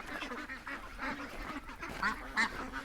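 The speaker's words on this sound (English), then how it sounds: "I got to show you some sleepy ducks" Sleepy ducks quack softly in a series of low, muffled calls, faint and somewhat distant over steady outdoor background noise.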